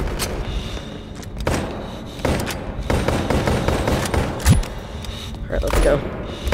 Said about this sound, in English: You guys just keep shooting and stuff.